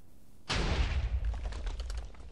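A TNT cannon in a video game fires with a sudden loud blast, followed by a dense rumbling burst and crackling that continues for about two seconds.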